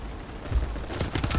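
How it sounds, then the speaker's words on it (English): Rapid bursts of gunfire in the shooter game BattleBit Remastered, dense overlapping shots with low thumps, heard briefly and fairly close. "Yep, I saw gunshots coming from there."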